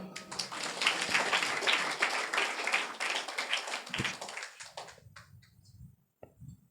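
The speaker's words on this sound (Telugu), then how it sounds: "వీరిద్దరిని బట్టి చప్పట్లు కొడదామా?" A church congregation claps together in a loud, sustained burst for about four seconds, then it thins out and a few scattered claps and soft murmurs remain near the end.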